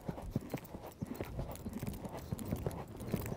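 Hooves of a dressage horse cantering in a steady three-beat rhythm, moderately close but soft, continuing without a break and with no talking.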